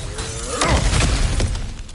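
A breakable obstacle shatters in God of War Ragnarök, a loud crunching smash with scattered debris over about a second, heard alone without talk.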